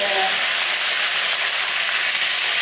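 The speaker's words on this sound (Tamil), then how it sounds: "ரெண்டு இணுக்கு அளவுக்கு கருவேப்பிலை எடுத்து வச்சுருக்கேன் இதில் போட்டுக்கலாம் இதிலே கொஞ்சமாக புதினா இலை" Curry leaves and a few mint leaves frying in hot oil for a brinjal and egg thokku, a steady broadband sizzle and crackle running throughout, close and fairly loud, with no talking.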